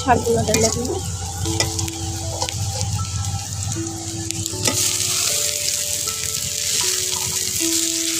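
Onion and garlic sizzle and fry steadily in a hot pan, a continuous close crackle with occasional stirring scrapes, heard alone without talk.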